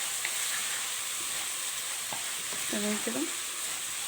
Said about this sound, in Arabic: طبعا بنشوح الرز بتاعنا شويه، ما نضيفش الميه على طول عشان عايزه الرز بتاعي يتشمع كده